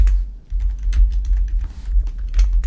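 Rapid typing on a computer keyboard, with irregular bursts of clicky keystrokes over a steady low hum, close and fairly loud throughout.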